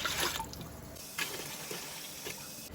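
Water streams steadily into a pot, a continuous soft splashing rush with a few brighter surges, fairly quiet and close by.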